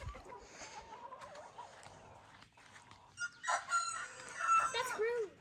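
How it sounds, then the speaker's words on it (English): A young backyard rooster crows at a garden chicken coop, a short strained cock-a-doodle-doo rising loud and close near the end after softer clucking and faint background sounds. "Bruce, your first time crowing."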